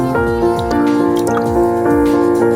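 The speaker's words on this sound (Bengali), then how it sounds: "একবার মশলা থেকে তেল বের হয়ে গেলে পরিমাণ মতো জল দিয়ে দেবো" Water poured into frying spices for vegetable biryani gives loud, close dripping and splashing liquid sounds under prominent tonal music.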